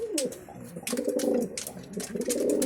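Pigeons being paired coo close by in repeated throaty, rolling bursts, with a brief flutter or rustle between calls.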